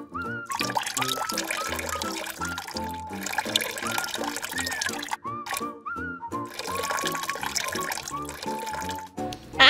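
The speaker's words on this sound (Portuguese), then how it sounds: "Primeiro, você vai encher 4 copos com água." Water pours into four cups for a children's walking-water experiment, a continuous close trickle and splash that shifts in pitch as each cup fills, with short pauses between pours and no talking.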